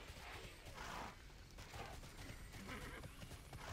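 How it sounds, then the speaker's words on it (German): A horse mount in the online game TERA neighs and whinnies in bursts over steady clip-clop hoofbeats and mechanical clatter, moderately loud and close. "Irgendwie konnte man wiehern und damit Leute nerven."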